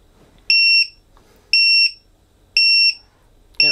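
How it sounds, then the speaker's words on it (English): A loud, piercing lost-model alarm buzzer on a drone sounds in short, evenly spaced bursts, three full blasts and the start of a fourth, with quiet gaps between. "If it stops moving, the yellow LED turns off, and 30 seconds later, the alarm will sound"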